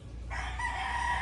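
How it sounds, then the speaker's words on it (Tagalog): A rooster crows at a chicken and pigeon loft, one drawn-out, strained call rising after a brief pause and holding to the end, close and clear over low background hum. "Grabe mga manok dito eh."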